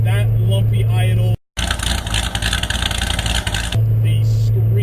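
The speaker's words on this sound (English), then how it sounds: "I love the sound of this car. It's incredible. That lumpy idle" A Corvette's V8 rumbles at a lumpy, uneven idle, a loud close throbbing interrupted by a brief cut, then a harsher surge of engine noise before settling back to the choppy idle.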